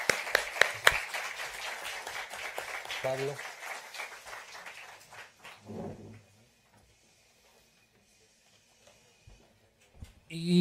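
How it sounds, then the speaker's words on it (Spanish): Audience applause closing a panel session at a real estate seminar, a dense burst of claps for about five seconds that thins out, with a voice calling a name, then near silence before talk resumes. "les vamos a dar su reconocimiento y un fuerte aplauso"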